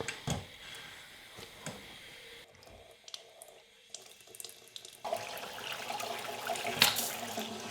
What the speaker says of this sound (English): Always a good idea to do a drain test, and I did fill up both sinks and do this at the same time